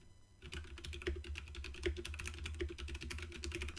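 Typing on a computer keyboard while entering text into a Windows desktop application, a quick irregular run of close, fairly soft key clicks with no talk.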